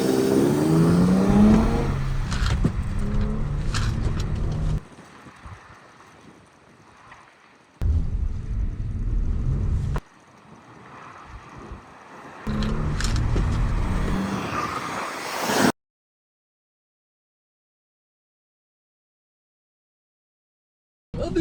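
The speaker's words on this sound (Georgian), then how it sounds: "მოდი ახლა ვნახოთ სლალომზე რას იზავენ ეს ავტომობილები." Cars running a slalom course, engines surging and revving in loud bursts separated by quieter gaps, ending in a long silence before a brief return of sound.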